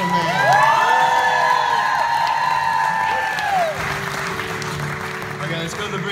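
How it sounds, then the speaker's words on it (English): An audience at an acoustic concert applauds and cheers, with whoops and crowd noise, while held musical tones ring over the clapping and then fade as the applause settles. "One more round of applause for this beautiful man."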